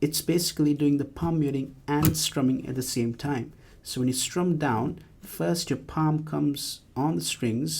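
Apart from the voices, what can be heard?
No everyday noise stands out behind the speech.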